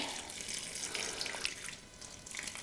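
Excess water is poured away from a container while planting sugarcane, making a soft, steady trickle and splash that stays faint and continuous throughout.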